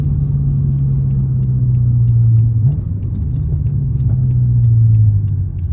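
A 700-horsepower BMW M6 Gran Coupe V8 pulls steadily through its rev range, a loud, deep engine drone that climbs in pitch, drops at a shift, and climbs again inside the cabin, with no talking.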